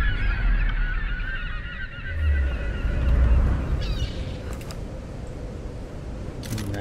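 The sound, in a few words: seagulls calling in Tomb Raider video game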